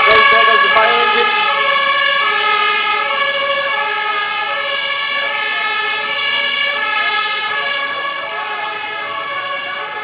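A fire engine siren from the Menai Bridge fire crew, heard during a half marathon on Anglesey, wails loudly in steady repeating tones as it pulls away, fading gradually with faint crowd sound beneath.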